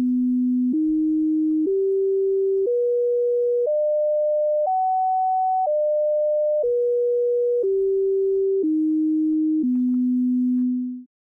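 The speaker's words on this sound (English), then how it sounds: "Now let's hear what the scale we invented sounds like." Synthesized pure sine tones stepping through an invented musical scale, eleven steady notes of about one second each climbing up and then back down, clean and alone.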